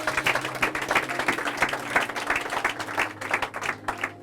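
A church congregation applauding and cheering for Jesus at a French-language service: steady, close rhythmic clapping from many hands with a few cheering voices, filling the whole stretch.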